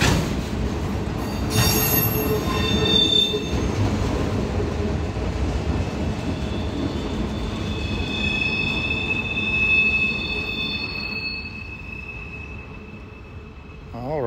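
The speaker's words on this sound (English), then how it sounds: "That's a train I've been waiting on all morning." A long mixed manifest freight train with mid-train DPU locomotives and a caboose rumbles past close by for the whole stretch, its wheels squealing in high, sustained metallic tones over the steady rolling roar.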